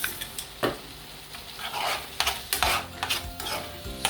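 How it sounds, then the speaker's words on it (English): Seasonings and garlic herb blend sizzling in a hot pan for curry chickpea wraps, a utensil scraping and stirring in bursts of crackly frying, close and clear with no talking. "Stir."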